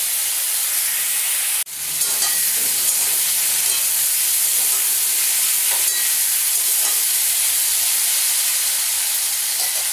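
Spinach seasoned with salt and turmeric sizzles loudly in a hot pan, a continuous bright hiss broken once by a brief clatter as it is stirred, then frying steadily on.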